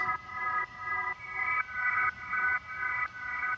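A Korg Minilogue synthesizer plays a repeating chord pattern slowed from about 180 to 124 BPM, in evenly spaced, sustained pulses with a slow, steady rhythm and soft reverb and delay tail.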